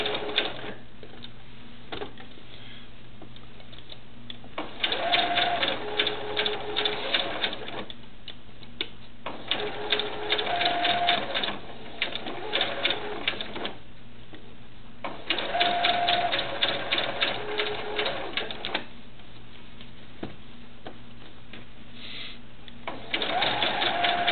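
Sewing machine stitching the body of a cloth doll, running in several bursts of steady rapid whirring separated by short pauses, fairly close and without talk.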